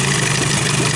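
An Evinrude Johnson outboard motor, set with a lean fuel mixture, runs at a steady, rough idle just after starting. The broadband engine drone stays loud and close without pause.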